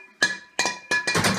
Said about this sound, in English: Hope I could just bang it off with this hammer.